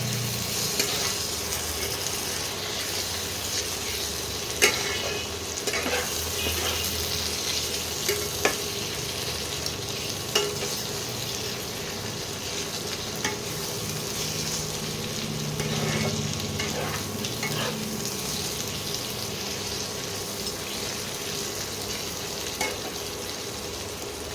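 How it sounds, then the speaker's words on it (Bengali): Spice masala with ginger-garlic paste stir-fried in a pan for green chicken: a continuous close sizzle and crackle with scattered spoon clicks and scrapes as the paste is stirred. "ভালো করে মশলাটাকে কষিয়ে নিচ্ছি।"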